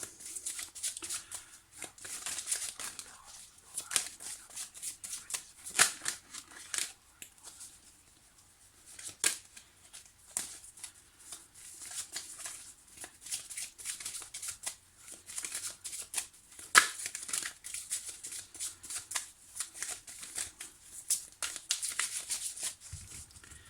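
Tarot cards being shuffled by hand at close range, a long run of soft papery riffles and slides that keep rising and falling in bursts, with no voices over it.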